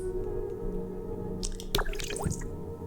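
Water is poured and splashes in the video game Theatre of Sorrows on Switch: a low steady hum, then a brief burst of dripping and splashing near the end, close and fairly loud, with no voices.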